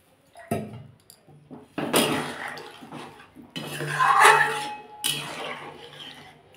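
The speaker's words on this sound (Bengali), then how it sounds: "সর্ষে দেওয়ার জলটাই দিয়ে দিলাম, আর একটু জল দিয়ে দিলাম।" Water poured into a pan of parshe fish curry with potatoes and capsicum, coming in several splashing, gushing bursts close by with short pauses between them.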